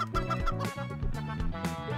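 Chicken clucking in the physics game Turbo Dismount, a run of short repeated clucks over a busy tonal game soundtrack, steady and fairly loud throughout.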